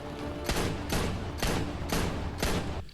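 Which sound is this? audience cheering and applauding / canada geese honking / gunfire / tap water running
gunfire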